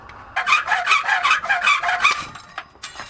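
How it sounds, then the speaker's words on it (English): An old hand hacksaw cuts with about eight quick, rasping back-and-forth strokes, close and fairly loud. The strokes then trail off into a few scattered scrapes. "That's my hacksaw"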